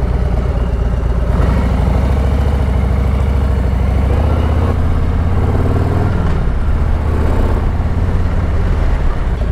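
A Harley-Davidson Touring motorcycle idles in town, its deep, steady low engine rumble loud and continuous throughout, with faint passing street noise layered over it.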